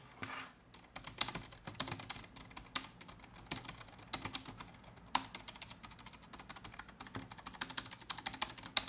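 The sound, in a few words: typing on scissor switch keyboard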